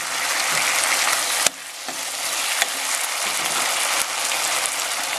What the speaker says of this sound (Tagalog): maglalagay po tayo ng patis